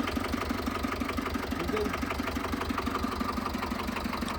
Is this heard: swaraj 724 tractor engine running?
yes